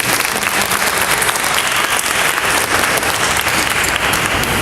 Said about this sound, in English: I want us to give a round of applause for these young people as well